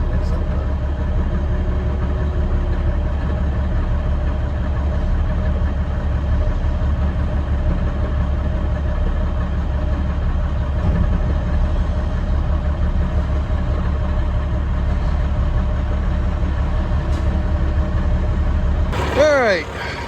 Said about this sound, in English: Tractors up on a pile there.